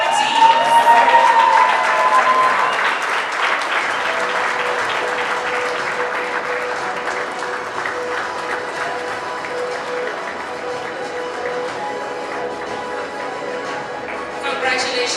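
Banquet audience at a CEO awards dinner applauds an award winner, a steady sustained round of clapping from a large crowd filling the room, with some cheering and a voice over it early on.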